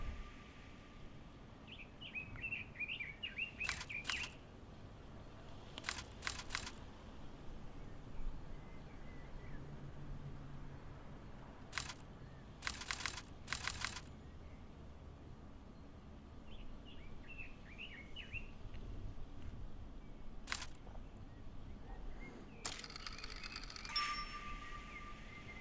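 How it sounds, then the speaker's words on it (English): A phone alarm goes off indoors in repeated short ringing bursts of bright tones, separated by gaps, with faint chirpy tones in between and a low background hum underneath. "Oh, my phone alarm's going off."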